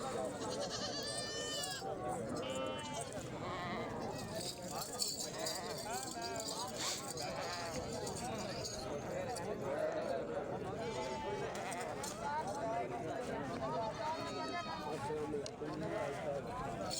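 Goats in a pen, many of them nursing mothers with kids, bleat repeatedly in overlapping wavering cries at near and middle distance, under continuous conversation between people.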